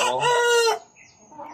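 Lavender Brahma rooster crowing once, loud and close, a long strained call that cuts off sharply and leaves faint background bird sounds.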